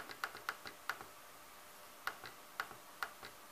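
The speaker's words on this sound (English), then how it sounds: "I will click on the upper button to adjust to 20." A button on a TCI & CDI tester is clicked several times, giving sharp, faint ticks in a loose, uneven rhythm in a quiet room.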